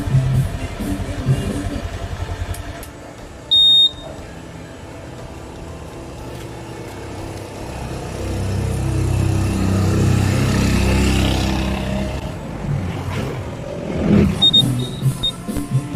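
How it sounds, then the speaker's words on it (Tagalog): A Honda Airblade 150 scooter engine starting and idling after a spark plug and oil change, a steady close mechanical drone that swells in the middle, with a couple of short electronic beeps. "start muna natin yung motor natin"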